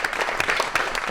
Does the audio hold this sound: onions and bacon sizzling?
no